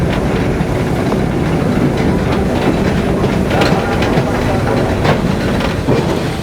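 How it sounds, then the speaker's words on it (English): The steam locomotive Tornado hauls its train across the Tyne, a loud, continuous rumble of rolling wagons with rhythmic clickety-clack from the rails, heard close up without talk. "the whole train is heading across the Tyne to turn around"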